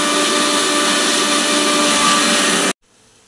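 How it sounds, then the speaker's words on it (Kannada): A mixer grinder grinding thick homemade fish fry masala without water whirs loudly and steadily for a few seconds, then cuts off abruptly into near silence. "ಗಟ್ಟಿಯಾಗಿ ರುಬ್ಬಬೇಕು, ನೀರಾಗಬಾರ್ದು ಇದು"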